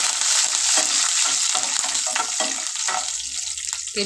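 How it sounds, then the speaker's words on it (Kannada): Cumin and fresh curry leaves fry in hot oil as a loud, constant crackling sizzle close up, broken by repeated stirring scrapes in the pan throughout. "ಹಸಿ ಕರಿಬೇವು ಇದನ್ನೆಲ್ಲ ಹಾಕೊಂಡು ಸ್ವಲ್ಪ ಫ್ರೈ ಮಾಡ್ಕೊಳ್ಳೋಣ"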